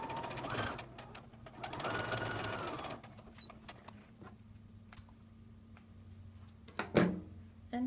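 A sewing machine stitching fabric pieces for a quilt, two short bursts of rapid buzzing close by, then quieter handling clicks and a brief knock.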